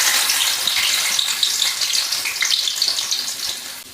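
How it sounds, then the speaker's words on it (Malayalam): About ten cloves of finely chopped garlic fry in hot oil, giving a close, loud, crackling sizzle for a few seconds that eases slightly toward the end, while a cauliflower fried rice is being made. "എണ്ണ ചൂടായി വന്നിട്ട് ഇതിലേക്ക് ഒരു 10 അല്ലി വെളുത്തുള്ളിയാണ്"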